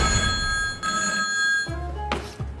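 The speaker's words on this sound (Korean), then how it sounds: "전화가 왔네요." A telephone rings in a TV variety-show studio, a bright electronic ringing tone repeating in short bursts with brief gaps, clear and fairly close, with no one talking over it.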